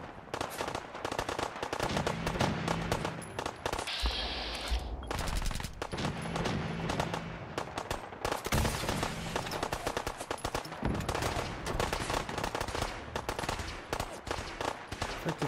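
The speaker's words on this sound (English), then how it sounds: "figure out where they're shooting from." Rapid bursts of automatic gunfire and scattered single shots crackle almost continuously in Fallout 4 with the Sim Settlements 2 mod, loud and dense, with a brief lull partway through.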